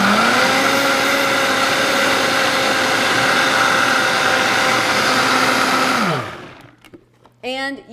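A countertop blender whirs loudly and steadily for about six seconds while mixing keto cake batter, then winds down to a stop, followed by a brief burst of talking.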